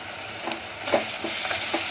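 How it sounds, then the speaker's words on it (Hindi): Prawns frying with onions in a pan, a steady close sizzle broken by soft scrapes and stirring knocks. "अब इसको प्याज के साथ जरा भूनूंगी झींगे को, जिससे खुशबू अच्छी निकलती है"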